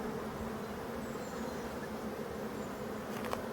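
Dense, continuous buzzing of many honeybees close by at a hive, a steady droning hum with individual insects whizzing past.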